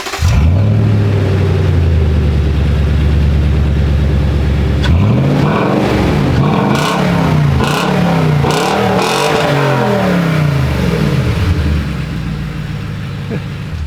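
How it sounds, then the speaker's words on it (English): A Toyota Tacoma pickup truck engine roars loudly at idle, then revs hard several times in quick surges, climbing to high RPM and dropping back. "The high RPM sounds crazy."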